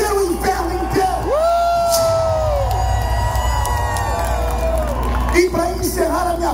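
A large crowd at a political rally on Copacabana beach in Rio de Janeiro shouts and cheers in a loud, sustained roar, with drawn-out yells rising above the mass of voices.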